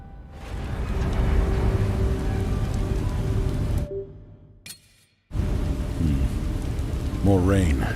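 Steady rainfall in the video game Beast of Reincarnation hisses across the whole clip, dropping away briefly in the middle before returning, with a short voice-like murmur near the end.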